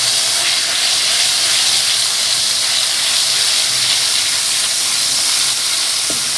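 Garlic paste fries in hot oil in a pan, giving a loud, steady, hissing sizzle that barely changes from start to finish.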